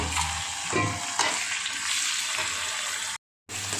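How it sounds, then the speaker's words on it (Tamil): Onions, garlic and tomatoes sauté in a pan for a garlic curry, giving a steady close sizzle and frying hiss with stirring scrapes, broken by a brief silent gap near the end. "இப்போ தக்காளியை போட்டு வதக்கிக்கலாம்"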